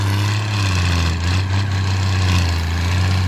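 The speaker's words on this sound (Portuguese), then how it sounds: "Olha o ronco do trator." A Valtra 1280E tractor, a BH 145 engine without a turbo, roars steadily as it works the field, a loud, constant low rumble with no pauses.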